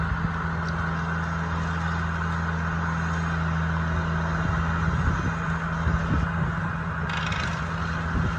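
A tree-trimming truck's engine runs in a loud, steady diesel drone with a strong low hum that never lets up. Irregular thumps and rattles rise toward the end, and no one speaks.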